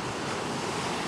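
Ocean surf washing onto a beach along the Great Ocean Road, a steady broadband roar of breaking waves with wind buffeting the microphone, no voices.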